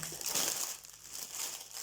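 Close, continuous crinkling of plastic packaging being handled and unwrapped from a cross-stitch kit, with no voices.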